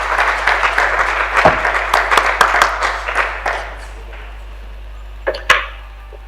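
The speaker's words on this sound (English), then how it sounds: "Can you please give him a round of applause?" Brief round of clapping from an audience at a South African lecture on democracy, a scattering of sharp claps that thins out and fades, with a couple of isolated knocks afterward.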